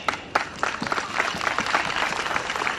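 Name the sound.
audience round of applause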